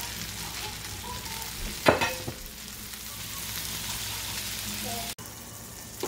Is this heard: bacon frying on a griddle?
yes